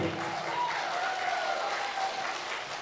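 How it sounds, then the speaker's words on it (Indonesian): Audience applause for candidate pair number 2 at the 2018 Padang Panjang mayoral debate, a steady crowd clapping that stays even throughout, with a faint tonal hum beneath. "Kita beri aplaus untuk pasangan nomor urut 2."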